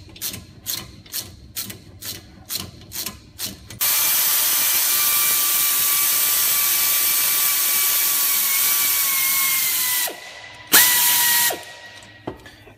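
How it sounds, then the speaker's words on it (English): Quick clicking strokes of a ratchet with an extension on brake caliper bolts of a Ford Escape during a front brake job, followed by a long steady whir and a brief second run. "So use an extension on your ratchet."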